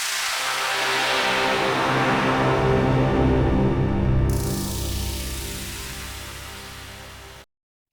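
A Travalizer granular synth in Reaktor smears a basic sound into a dense, hissing, swelling texture that brightens, then thins before cutting off abruptly, with no voices.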